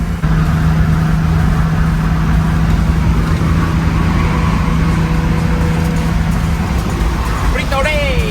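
Classic Nissan Skyline Hakosuka cruising at about 120 to 130 km/h and 3000 rpm on a Texas highway, a loud, steady engine drone and road roar with a brief high chirp near the end.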